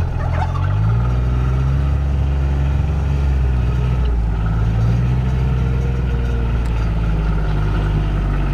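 Domestic turkeys gobble and cluck in a group over the steady drone of a nearby Gator utility vehicle engine running underneath.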